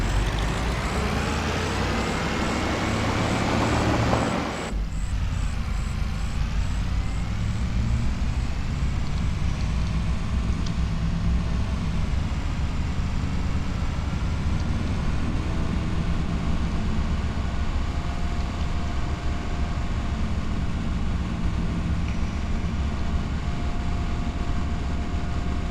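A truck engine in Farming Simulator 25 starts up with a hiss, then settles into a loud, steady, low diesel-like rumble that runs on without a break.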